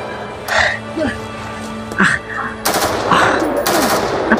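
Bursts of rapid gunfire crackle in the distance, a sustained volley in the second half, while people exclaim and speak nearby.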